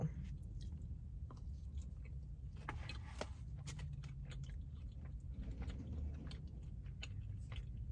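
Someone chews Taco Bell steak and fries topped with hot sauce, quiet close mouth sounds with soft crunches and smacks over a low background rumble.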